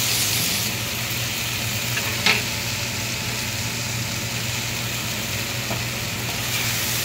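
Okra frying in a pan gives a continuous close, loud sizzle with a steady hum beneath and occasional scraping stir strokes.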